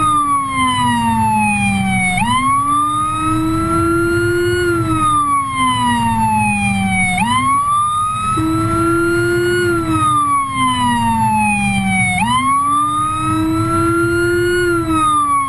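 A Whelen Howler low-frequency siren on a patrol car wails loudly in repeating rising and falling sweeps, each cycle lasting about five seconds, with a deep, throbbing undertone beneath the steady wail.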